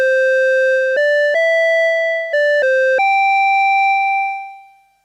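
An OP-1 synthesizer set to imitate a Casio VL-1 tone with tremolo off plays a short run of plain, buzzy electronic notes that jump between pitches. The last note holds and then fades out, loud and alone.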